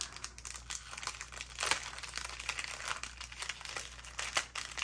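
Paper packaging crinkles as it is opened slowly and carefully, giving close, irregular rustles and crackles in uneven bursts with no voices.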